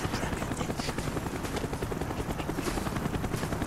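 A helicopter in the video game Call of Duty Black Ops drones with steady rapid rotor thumping and a broad engine roar, loud and constant throughout.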